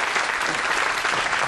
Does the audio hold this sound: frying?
no